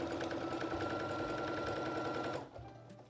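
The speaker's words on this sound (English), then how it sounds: "Sew 2 rows of gathering stitches on each piece along the upper edge" A sewing machine runs steadily, stitching two rows of gathering stitches along the upper edge of skirt pieces for a midi dress, then stops abruptly near the end, leaving a quieter tail.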